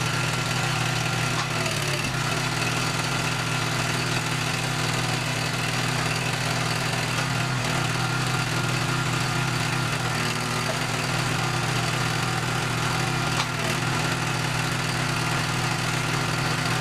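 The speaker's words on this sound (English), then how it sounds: "The iron and oak log splitter, 37-ton, equipped with a powerful Honda GX" A 37-ton iron and oak log splitter powered by a Honda GX engine runs steadily throughout, a loud continuous mechanical drone with a low hum and no voices.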